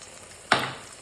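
Potato pieces drop into hot oil in a cooking pot for mutton curry, a sudden close sizzle that flares up and then settles into a softer crackle.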